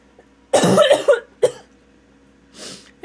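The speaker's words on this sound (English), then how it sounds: "And now I'm just coughing." A person coughs close to the microphone, a sharp burst followed by a couple of quick hacks and a softer breathy cough, after taking too much ginger.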